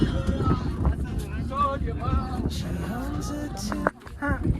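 Gusty, cold wind buffets the microphone with a steady low rumble while people talk over it, at Junagadh.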